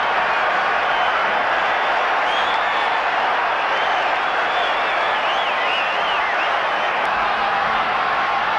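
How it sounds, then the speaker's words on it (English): A large North Sydney rugby league crowd at a 1982 semi-final against Easts cheers after a try, a steady, loud roar that fills the whole stretch without a break. "This North Sydney crowd has been very vocal today"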